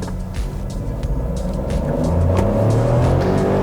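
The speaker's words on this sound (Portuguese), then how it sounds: "Vocês perceberam o hiato aí de mais ou menos 2 segundos até o motor despertar?" A 2020 Chevrolet Onix Plus with a 1.0 turbo engine accelerates hard in first gear, its engine rumble building steadily and close by, with no talk.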